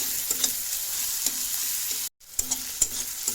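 Onions fry in a pan for a potato, eggplant and fish curry, producing a constant close sizzle with occasional stirring clicks. A brief cut of silence interrupts it partway through, then the frying resumes.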